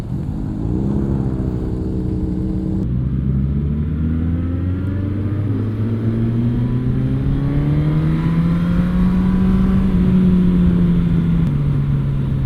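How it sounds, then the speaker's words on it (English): A motorcycle engine revs and drones continuously, its exhaust note rising steadily in pitch, loud and close with a rumbling low end, no talking. "the exhaust sound bounces off all the walls and houses"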